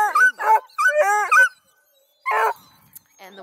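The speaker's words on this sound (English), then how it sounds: "the one barking is female." A female Bluetick coonhound gives a few loud, close, honking barks in short bursts separated by brief silences.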